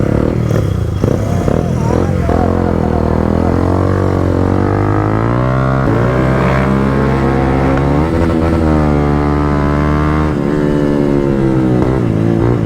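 A Kawasaki Z900 superbike engine revs close up, its throaty tone rising and falling in sweeping pitch changes across repeated throttle blips, loud and continuous.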